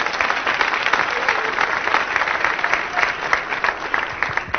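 A comedy show audience applauds, dense steady clapping from a crowd that continues throughout with slight swells, close and fairly loud.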